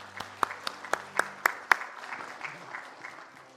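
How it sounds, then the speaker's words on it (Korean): A church congregation applauds during a Sunday service, with evenly spaced claps that stand out at first and then fade into softer, scattered clapping. "우리 박수해 주세요"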